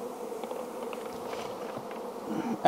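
Honey bees in a swarm box making a continuous, steady buzzing drone that stays close and fairly loud throughout, with no talking.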